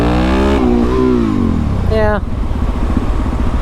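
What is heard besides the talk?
Suzuki DRZ motorcycle engine revving hard in second gear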